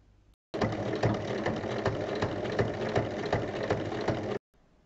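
Sewing machine stitching fabric strips for a small bag: a close, steady rapid mechanical chatter running for about four seconds between short silences, with no talk.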